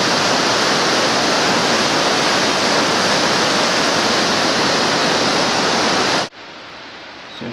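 A Smoky Mountains waterfall roars as a dense, steady rush of falling water heard up close, then drops abruptly to a quieter background wash near the end.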